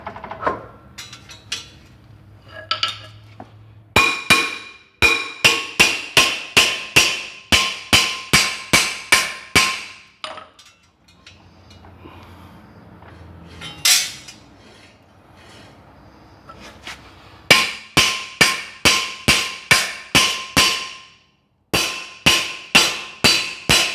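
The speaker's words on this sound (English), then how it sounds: "you'll probably have to bang this rotor off" Loud, sharp metallic impacts in rapid bursts of repeated blows, with short pauses between runs, as a hammer pounds a stuck front brake rotor off a Mitsubishi Galant close by.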